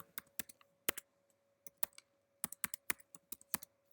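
Close, crisp clicks of typing on a computer keyboard come in irregular bursts with short pauses, over a faint steady hum.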